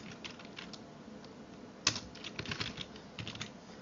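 Fingers type C# code on a computer keyboard in quick, light, irregular clicks, close and fairly soft, with one sharper keystroke standing out midway.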